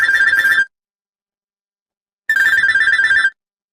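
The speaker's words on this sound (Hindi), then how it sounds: "उनके जाते ही रौनक का फोन सावित्री के पास आता है।" A telephone rings in two loud, clear bursts separated by a pause of about a second and a half, each burst a rapid trilling electronic tone with no talking.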